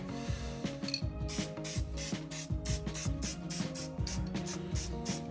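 Spray painting the first coat on a motorcycle trailer during a rebuild, a continuous hissing spray with repeated rhythmic clicking and rattling from the spray mechanism throughout, close and fairly loud.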